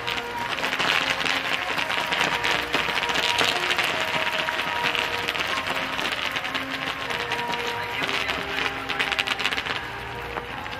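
A large outdoor crowd at the close of the Toyota Oiden Festival fireworks show applauds the fireworks makers: a dense, continuous wash of clapping that holds steady for several seconds over faint sustained tones in the background.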